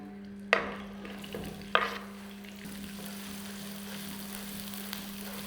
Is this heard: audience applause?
no